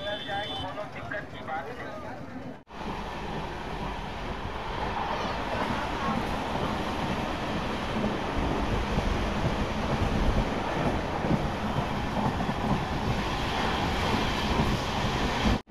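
Amrit Bharat Express running from Darbhanga to New Delhi, a steady broadband rumble and rushing noise of the moving train heard from inside, continuous and fairly loud after a brief opening stretch with a voice.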